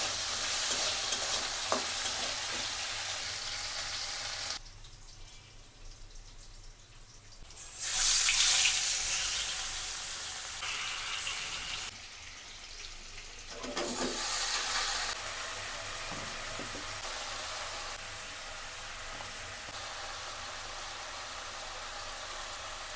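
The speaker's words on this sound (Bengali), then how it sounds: "তো প্রথমে হচ্ছে আলুগুলোকে আগে ভেজে নেই" Potatoes fry in a pan of oil, a close, continuous sizzle with stirring scrapes and a couple of sudden louder hissing bursts, no talking.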